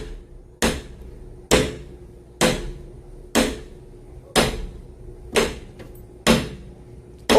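Someone knocks on a door in a slow, steady series of eight hard, evenly spaced single thuds close by, each ringing off briefly before the next, with no talking.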